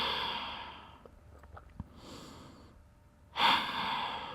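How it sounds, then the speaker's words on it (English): Deep breathing during a Pilates child's pose stretch, with slow, audible breaths close to the mic: exhales and sighs, a soft pause, then a stronger breath near the end. "Let's take 3 deep breaths together."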